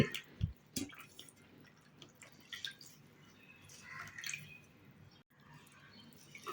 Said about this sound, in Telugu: నీళ్ళన్నీ ఇలా పిండేసుకొని ఈ క్లాత్ని ఇలా వేసుకోండి.